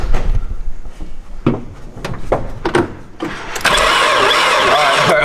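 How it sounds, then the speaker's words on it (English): Clanks and knocks of someone working near a turbocharged Nissan S14, then its newly fitted engine cranks and roars to life for the first time, running loud and steady up close. "she's almost ready to start for the first time with this engine"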